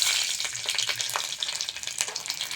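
Garlic sizzles in hot oil in a pan, a bright crackling fry with stirring scrapes, close and steady.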